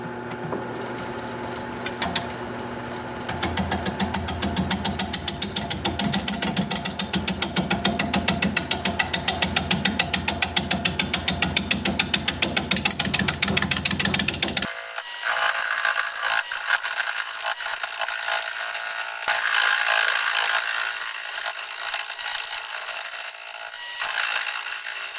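A wood lathe spins at 420 RPM while a 5/8 inch bowl gouge cuts a wooden bowl, making a loud, continuous, close scraping whir that shifts to a brighter, thinner hiss partway through, with no voices.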